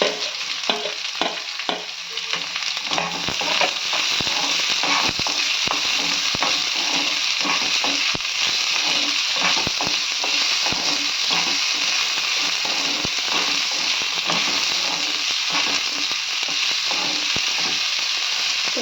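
Onion and dried red chillies frying in oil with chana dal and crushed garlic, a continuous close sizzle punctuated by frequent clicking scrapes and taps of a spatula against the pan.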